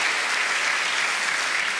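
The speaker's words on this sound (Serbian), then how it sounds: "Jedan aplauz za pre-full." A live concert audience claps in dense, even applause, steady and fairly loud throughout with no voices on top.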